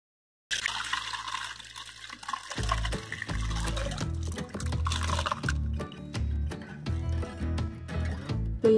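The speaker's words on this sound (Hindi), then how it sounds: "अब इसके ऊपर हम वो जो कढ़ाई में जो हमारा पनीर बनके रेडी है वो हम इसमें डाल के छानेंगे" Freshly made paneer poured from a wok through a dry cloth to strain it gives a splashing, gushing pour near the start, then a rhythmic background track takes over.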